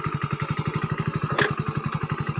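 A parked motorcycle idles steadily with a fast, even low putter, close and loud, joined by a short metallic clack in the middle; no one talks.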